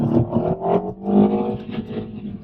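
A MINI John Cooper Works petrol car accelerates hard, its engine note rising and surging steadily for a couple of seconds, loud and close.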